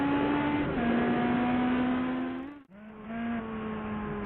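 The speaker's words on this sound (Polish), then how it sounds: "Dobrze się jeździ tym Maserati. Ma niezłe przyspieszenie i szybkość." A Maserati driven in a video game accelerates hard, its engine note climbing steadily and loud, cutting off briefly for a gear shift before revving up again, with no talking over it.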